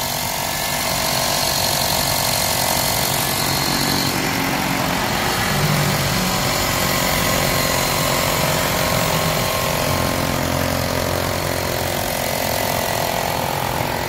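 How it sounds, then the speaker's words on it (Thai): A 2007 Honda Jazz 1.5 engine idles steadily at close range, a constant low rumble with a faint hum and no talking throughout. "เดี๋ยวลองฟังเสียงเครื่องยนต์นะครับ"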